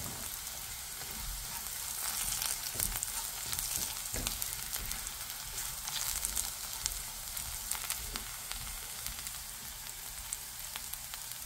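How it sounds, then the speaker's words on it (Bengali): Whole cumin seeds fry in hot oil, a soft, even crackling sizzle with scattered tiny pops, steady and fairly faint for the whole stretch. "আস্তা গোটা জিরা। এই একটু ভেজে নেব।"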